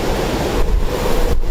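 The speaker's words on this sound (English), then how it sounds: "battered by torrential rain and gale force winds in a downpour not seen in this city for over 20 years" Torrential rain and gale-force winds lash Sydney in a heavy storm, a loud, dense, continuous roar of wind and pouring water with brief gusty dips, close and unbroken throughout.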